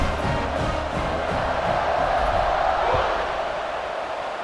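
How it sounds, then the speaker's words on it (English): Stadium crowd noise from EA Sports College Football 26 forms a steady, loud roar of cheering before a kickoff, with dense broadband hubbub throughout and no clear peaks. "Do you think this crowd's going to get loud when their defense comes on the field?"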